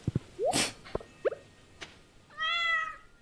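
A cartoonish cat meow from the Stardew Valley farming game, a short rising mew followed by a longer tonal meow near the end, amid small game blips and clicks.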